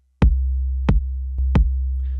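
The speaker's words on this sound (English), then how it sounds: "So what you're hearing right now is the wavetable out of Osiris." Modbap Osiris wavetable oscillator holding a sustained low tone beneath a sparse drum beat, with four sharp, evenly spaced hits over roughly two seconds and no talking.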